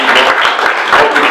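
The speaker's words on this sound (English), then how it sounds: "I think that deserves a round of applause" A crowd at a community meeting breaks into loud, dense applause that fills the room in a short, steady burst.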